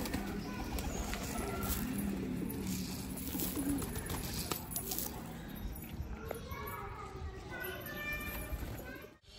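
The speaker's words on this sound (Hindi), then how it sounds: "अब सब कबूतर को डालते गेहूँ।" Pigeons coo softly amid a busy outdoor din of fluttering and movement, with people talking nearby throughout.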